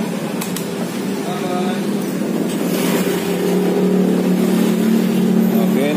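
Honda Vario 150 scooter engine starting up and settling into a steady idle hum, close and fairly loud, with a person talking over it.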